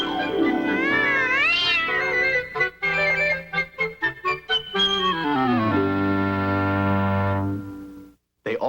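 A cat meows and caterwauls loudly and close up, starting with long wavering yowls, then a run of short choppy meows, ending in a drawn-out, sliding moan, alone without talk.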